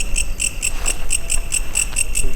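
Grasshoppers chirp steadily at an abandoned housing estate in Cakung, Jakarta, a rhythmic run of high, bright pulses repeating about every quarter second over a constant outdoor hiss, with no talking.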